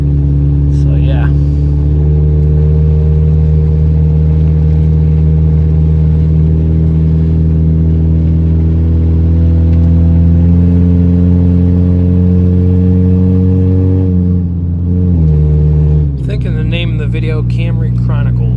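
A Toyota Camry engine runs loud and close with a steady low droning hum that holds for most of the stretch, then shifts and changes character near the end.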